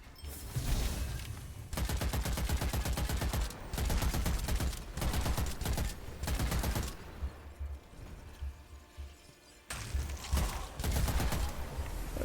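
Automatic weapon fire in the video game Witchfire as a magazine is emptied: dense rapid bursts of shots in several long strings separated by short pauses, loud and close, with no talk over them.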